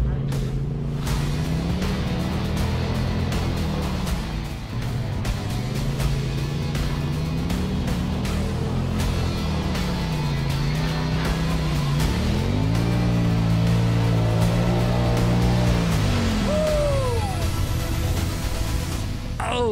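A Polaris off-road vehicle drives through muddy Mississippi terrain into a big mud hole, its engine droning steadily, then revving and surging as it plows in, with people talking over it.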